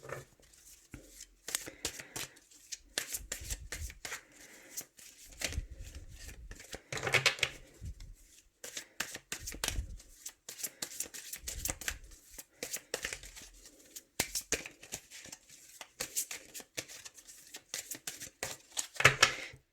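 Oracle cards are cut and shuffled by hand in a series of close, crisp riffling and slapping bursts, separated by short pauses and uneven in rhythm, with no speech.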